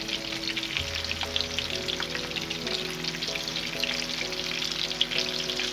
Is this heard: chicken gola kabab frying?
yes